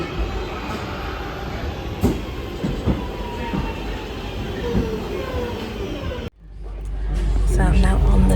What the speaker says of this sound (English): So I'm now on the train.